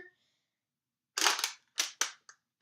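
Spring-powered Nerf sniper blaster firing: a few sharp, close puffs and snaps in quick succession, a louder burst followed by shorter cracks and a small click, with silence between.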